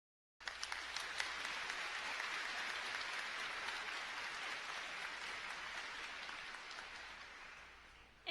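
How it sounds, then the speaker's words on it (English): A large crowd at a high school graduation ceremony bursts into applause and keeps it going as a steady, even wash of clapping that fades very slightly toward the end. "A round of applause, please."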